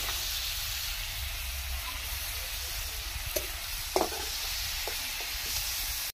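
Prawns sizzle steadily in hot oil in a pan for Bengali prawn malai curry, a continuous frying hiss with a few soft clinks as pieces are lifted out near the end.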